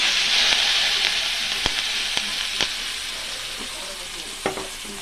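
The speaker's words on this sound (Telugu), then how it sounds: "జీలకర్ర, కరివేపాకు, ఎండుమిరపకాయలు వేసి తాలింపు వేసుకుంటాం" Cumin seeds, curry leaves and dried red chilies crackle and spit in hot oil for a tomato chutney tempering, a loud steady sizzle with sharp pops scattered throughout.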